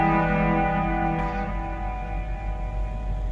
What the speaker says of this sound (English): even though it stopped playing, the trails of the delay and the reverb still make it past it